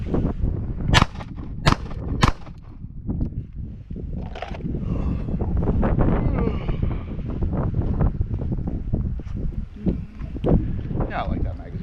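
A handgun fires during a Maryland law enforcement qualification course: three sharp, loud shots crack in quick succession, followed by steady wind noise over the microphone while people talk.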